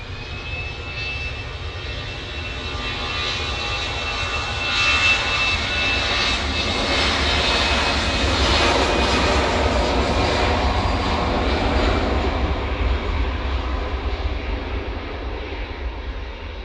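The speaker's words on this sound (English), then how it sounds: "EasyJet's on the roll." An EasyJet airliner rolls for takeoff at Manchester Airport, its engines building to a loud, sustained roar that swells toward the middle and stays strong, with no talk over it.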